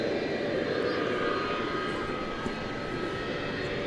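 A UPS Airbus A300 jet pushing back at DFW Airport at night, its engines producing a steady, fairly loud roar and whine, with a voice talking faintly underneath.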